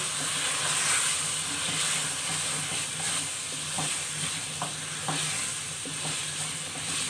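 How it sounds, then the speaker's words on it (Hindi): Mutton mince roasting with spices in a pan, a steady hissing sizzle with occasional scraping stirs and soft clinks, close and continuous. "जी, कीमे को हम भून रहे हैं"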